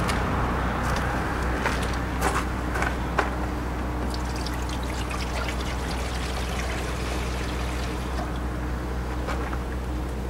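Water pours steadily into a MasterCraft 7-inch wet tile saw tray, splashing continuously, with small clinks and knocks on top of a low constant hum.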